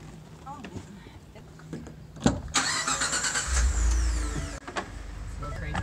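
A half-ton pickup truck's engine cranks with a sharp burst and roars to life briefly, then settles, with scattered clatter and faint voices around it.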